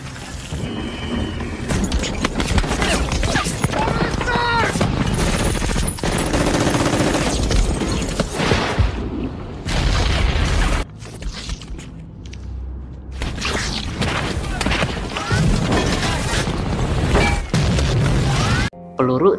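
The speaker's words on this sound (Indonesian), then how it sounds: "Peluru tidak henti-hentinya menyerang mereka" A war film battle scene of an Allied large-scale assault on Germany, with dense machine gun bursts, gunfire and heavy booms and crashes filling the whole stretch, loud and chaotic, with brief quieter gaps.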